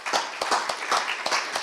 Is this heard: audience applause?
yes